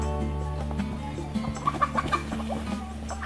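Chickens cluck in short, soft bursts over a steady low electrical hum, fairly close and not loud.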